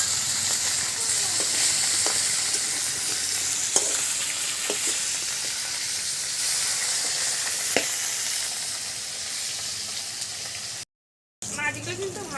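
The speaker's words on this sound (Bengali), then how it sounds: "মাছগুলো কিন্তু ভাজা হয়ে গেল" Fresh rohu fish pieces fry crisply in hot oil, a loud, continuous close-up sizzle and hiss with occasional spatters and clicks. It runs unbroken for most of the stretch, then cuts out briefly before returning.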